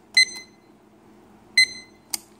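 A Glovion digital kitchen timer beeps as its buttons are pressed, giving two short, clear, close electronic beeps spaced over a second apart, followed by a soft button click in a quiet room.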